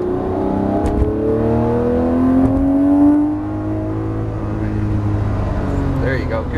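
A Lamborghini Murciélago on a race track revs up with a rising engine whine that climbs and then drops back to a steady drone, loud and close, with a voice speaking over it.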